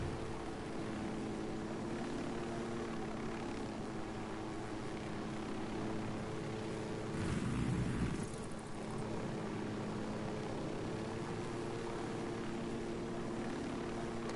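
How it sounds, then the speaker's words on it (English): A helicopter in the video game Ghost Recon Wildlands drones steadily with a low, even rotor and engine hum, swelling briefly midway before settling back to a constant level. "What are you guys even gonna do against a helicopter?"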